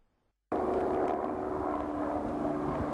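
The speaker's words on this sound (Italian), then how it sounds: "L'elicottero dall'alto sorvola l'area e scarica l'acqua" Firefighting helicopter flying low over a forest fire near Padova, a steady loud rotor and engine roar that starts abruptly and holds constant, with no voices.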